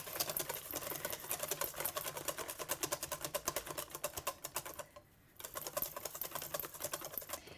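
A hand whisk beats a mixture for a cinnamon and berry millefeuille, making rapid, regular light clicking strokes close up. The strokes pause briefly midway, then resume.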